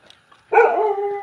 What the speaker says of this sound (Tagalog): May aso talaga dyan.